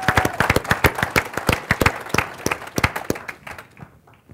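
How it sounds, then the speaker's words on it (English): Audience applause at a Las Vegas company announcement event, a round of close, sharp clapping from a modest crowd that thins out and stops within a few seconds. "Give yourselves a round of applause."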